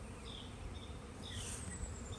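A soft, continuous buzzing of honey bees on comb hums close by, with individual insects droning past, faint but steady and without talk.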